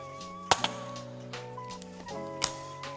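A FABARM STF 12 Compact pump-action gas shotgun gives two sharp, close mechanical clicks about two seconds apart as the trigger is pulled to eject the spent shell, with faint steady background tones.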